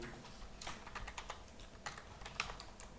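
Code typed on a computer keyboard, quick irregular clicking keystrokes up close and fairly quiet, with no talk.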